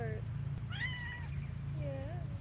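A kitten outdoors lets out a few high, wavering meows in quick succession, fairly close, over a steady low hum of background noise.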